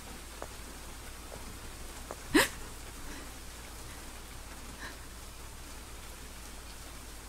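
Steady rain hiss fills a horror video game scene, soft and continuous, with one brief sharp rustling burst standing out partway through.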